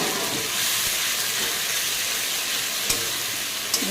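Ginger-garlic and tomato paste fry in a pan, giving a steady, dense sizzle that runs unbroken throughout, with a couple of brief clinks near the end.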